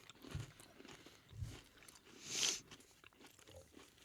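A crunchy, Oreo-like cookie with a white filling is bitten and chewed close to the mic, with a few soft crunches and one sharper, brighter bite midway, otherwise quiet.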